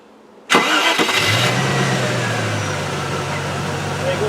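A Range Rover engine cranks and catches after a fuel pump fix, then settles into a steady, loud idle close by.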